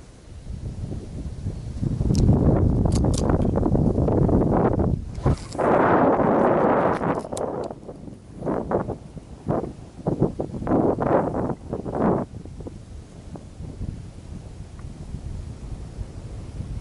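Strong wind buffets the microphone on a September fishing trip on the Volga, with a loud, roaring rush that swells and then breaks into gusty bursts before easing to a lower steady blow.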